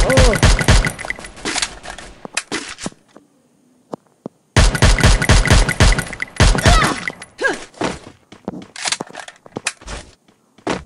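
Rapid bursts of game gunfire crackle loudly in quick volleys, broken by a short quiet pause before more shooting resumes.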